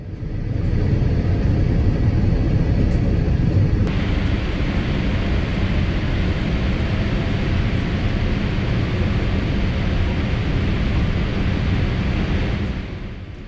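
Steady loud roar inside the cabin of a British Airways Boeing 787 on approach to Heathrow, a broad continuous rush of engine and airflow noise that holds evenly throughout and tails off slightly at the end.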